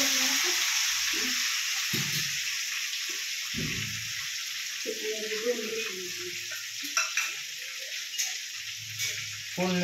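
Tempering spitting and sizzling in hot oil in a home kitchen pan, a steady close crackle under short bursts of voices.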